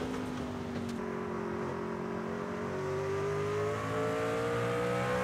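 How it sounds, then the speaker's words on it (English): A stock race car in a 125-lap truck series race at a circuit runs with its throttle worked, a steady engine drone with rising and falling tones heard from a distance, without talk. "You can hear the throttle control really being played with right now inside."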